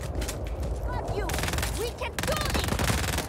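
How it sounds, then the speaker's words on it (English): Rapid bursts of gunfire from the video game Just Cause 4, where a shotgun is being used, ring out in dense, loud volleys with clipped pauses, while indistinct voices and game effects sound in the mix. "I'm using a shotgun against that shit"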